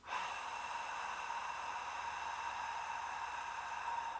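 A long, steady exhaled breath during a child's meditation carries on evenly for about four seconds as a soft, close airy hiss.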